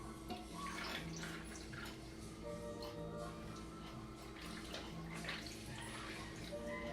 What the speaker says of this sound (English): Okay, let's pour our margarita.